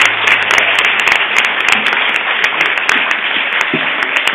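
Dense, steady audience applause fills the hall at the grand final of a regional cultural olympiad, with many hands clapping continuously and close by throughout.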